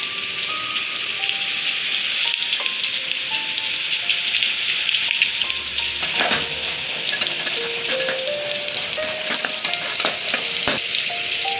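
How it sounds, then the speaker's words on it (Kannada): Beans fry in a pan for veg pulao, with a continuous bright sizzle and a louder burst of crackling and stirring in the middle, while faint melodic tones play in the background; nobody talks. "ಬೀನ್ಸ್ನ ಆ್ಯಡ್ ಮಾಡಿ ಸ್ವಲ್ಪ ಫ್ರೈ ಮಾಡಿಕೊಂಡೆ."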